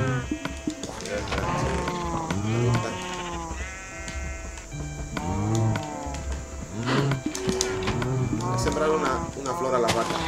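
Minecraft cows and sheep mooing and bleating repeatedly through a farm scene, several harmonic calls overlapping at close range over steady game ambience, with talking in between.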